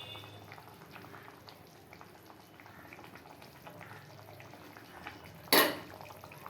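Water boils quietly in a cooking pot with a soft, continuous bubbling, then a single loud sharp clatter from the pot near the end.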